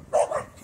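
A corgi lets out one short, close bark, a quick sharp yap that ends almost at once.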